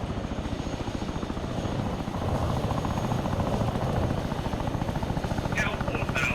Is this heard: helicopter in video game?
yes